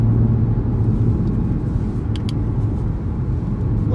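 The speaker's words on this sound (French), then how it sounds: "On entend toujours le son de l'échappement" 2018 Audi RS3 exhaust in individual mode with the valves held open, a deep, steady low rumble at close range, with no talk.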